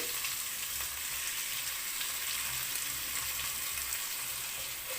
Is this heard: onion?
yes